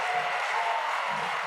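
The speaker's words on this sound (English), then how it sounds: "It's very kind of you to clap," An audience at a talk on aliens, the multiverse and God gives a brief burst of steady, full applause that fills the room, with no voices on top.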